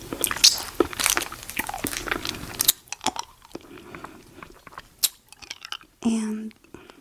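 Sugar-free caramel Werther's Original hard candies are crunched and bitten close to the mic in an intimate setting, with several sharp crunches and chewing clicks, interleaved with soft-spoken talk.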